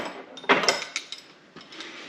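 A wrench tightening a nut while a bench vise is bolted down on a farm, giving a few quick metallic ratcheting clicks and clanks, close and fairly quiet, with no voices.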